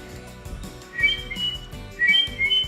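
A person whistles an imitation of a bird call, short high chirping phrases repeated in two bursts, close and clear over a quiet room.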